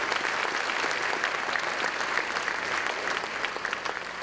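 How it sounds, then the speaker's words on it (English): An audience claps steadily at a heroes recognition event, a dense even wash of applause lasting the whole moment without a break. "Give them a round of applause because they push this every week."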